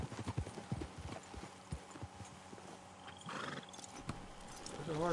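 Horse hooves clip-clop in Red Dead Redemption 2, a steady quiet trotting rhythm up close with a whinny near the end.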